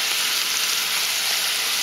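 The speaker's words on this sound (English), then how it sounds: "So we got the onions and some pepper and some corn in there. Let's give that a quick stir." Onions, pepper and corn fry in a pan with a steady, loud sizzle and a faint scrape of stirring, close by and with no talking.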